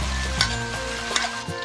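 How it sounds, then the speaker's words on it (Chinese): Sichuan pepper, scallion, ginger, garlic, pickled and dried chilies fry in rapeseed oil over medium-low heat, a close, steady sizzle with a few brief spatula scrapes, and no voices. "然后把葱姜蒜泡椒干辣椒一起下锅， 开中小火把小料炒香"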